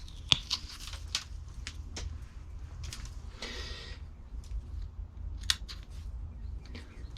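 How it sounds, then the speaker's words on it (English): Scissors trim the roots of a Jacqueline Hillier elm bonsai during repotting, giving sharp, close snips spaced irregularly over several seconds, with faint rustling of roots and soil between cuts. "we're going to trim off some of these longer roots here"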